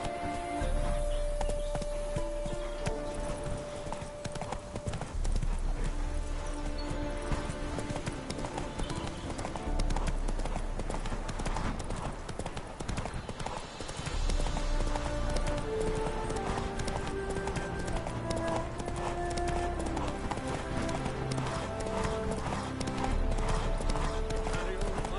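A horse's hooves clip-clop steadily in The Witcher 3, a continuous rhythmic trot set under game music and a voice speaking.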